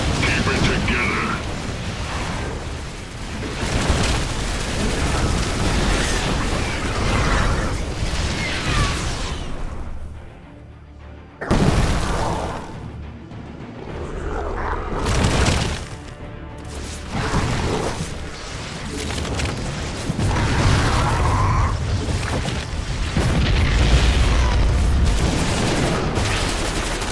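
Explosions and gunfire boom through a StarCraft 2: Heart of the Swarm battle as barricades are blown apart, with loud dense bursts, brief lulls and swelling blasts, mixed under game voice lines.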